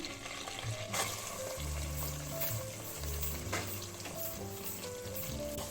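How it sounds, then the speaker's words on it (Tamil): Onions sauté in hot oil for a meal maker gravy, a quiet steady sizzle with occasional stirring knocks and low tonal hums underneath, and no one speaking. "வெங்காயம் வந்து இந்த அளவுக்கு பொன்னிறமாக வதக்கி எடுத்துக்குங்க"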